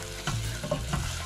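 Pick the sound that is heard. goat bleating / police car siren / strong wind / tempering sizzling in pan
tempering sizzling in pan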